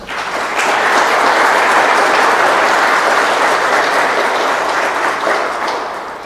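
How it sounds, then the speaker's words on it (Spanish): Loud, dense applause from a conference audience at a university keynote lecture, rising quickly and holding steady for several seconds before fading slightly at the end. "para quien pido fuertes aplausos"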